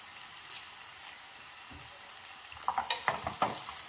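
Dried red chillies and curry leaves drop into hot oil for a papaya masala curry. A steady low sizzle builds into a burst of crackling pops and spatters toward the end.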